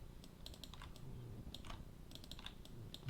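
Quick bursts of mouse clicks come from a computer while objects are selected in 3D modeling software, light crisp taps in small clusters, close and fairly quiet over a soft background hum.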